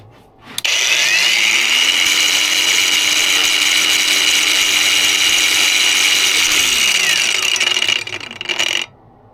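A DeWalt cordless grinder spins up and runs with a loud, steady high-pitched whine while cutting, then winds down, its tone sinking as it stops.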